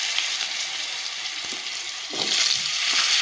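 Potatoes fry in hot oil with whole cumin in a pan, a bright continuous hiss that swells louder toward the end, with a couple of soft stirring knocks.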